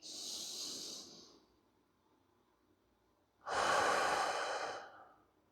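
Slow, deep breathing during meditation: a long, airy breath up close, a quiet pause, then another long, full breath that gradually fades.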